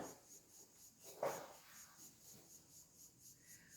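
A pen or marker scratches briefly across a board during a Portuguese grammar lesson, one short stroke standing out over a quiet room hum.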